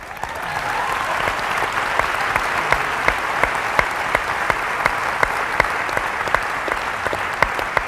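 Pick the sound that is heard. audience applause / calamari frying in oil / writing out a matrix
audience applause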